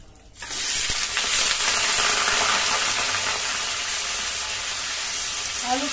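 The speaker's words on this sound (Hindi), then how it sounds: "आलू को मैं धीरे धीरे फ्राई करूंगी" Potatoes hit a hot pan for Bengali aloo posto and burst into a loud, dense sizzle that holds steady and close with no speech.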